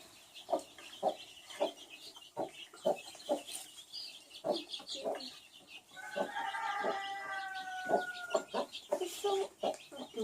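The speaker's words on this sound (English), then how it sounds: "There's 12 baby chicks." Mother hen and a brood of twelve baby chicks on a family farm, giving repeated short clucks and peeps in a steady rhythm, with a higher run of chirping partway through, close by and moderately loud.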